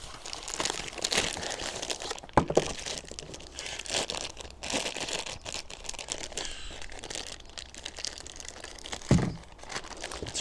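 Waterproof plastic packing bags from a FIRMAN 3550 portable gas generator box crinkle and rustle up close in irregular handling bursts, with a couple of sharper crackles standing out and no talk.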